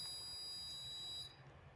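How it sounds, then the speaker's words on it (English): A buzzer on an Arduino automatic door project gives a steady, high-pitched electronic tone that holds, then cuts off shortly before the end. "The buzzer goes on and stays on for 8 seconds."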